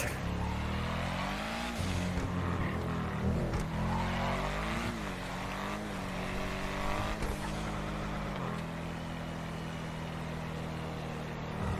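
A car in GTA 5 launches hard, its engine revving up and down through several rising and falling sweeps, loud and close, with a faint tire squeal and no talk over it.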